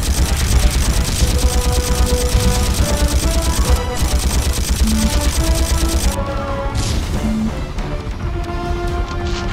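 Missiles launch in the PS2 helicopter game Fire Blade amid a dense, continuous barrage of game gunfire, booms and engine roar, loud and unbroken throughout, with a brief tonal game sound layered near the end.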